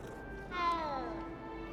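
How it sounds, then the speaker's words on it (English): A single short cat meow from the video game Hogwarts Legacy rises and falls over faint background hum, fairly quiet and brief. "Can I pet the cat?"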